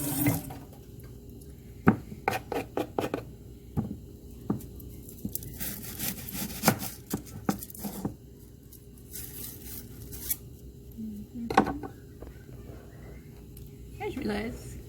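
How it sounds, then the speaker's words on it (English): Running tap water splashes over a kitchen knife as it is rinsed at a sink, a steady wash of water broken by sharp clatters and knocks, fairly close and loud. "Rinse my knife."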